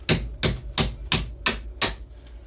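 A part being tapped into a 1987–2000 Toyota Camry front shock with six evenly spaced, sharp hammer blows, loud and close, in a steady rhythm lasting about two seconds.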